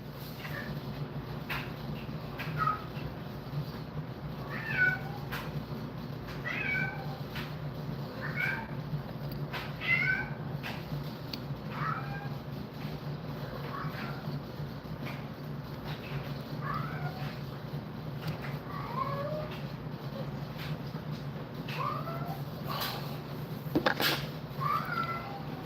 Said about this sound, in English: My cat is meowing.